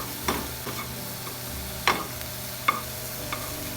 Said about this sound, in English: So maybe I just saute them about a minute or two